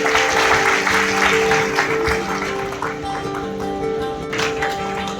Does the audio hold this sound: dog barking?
no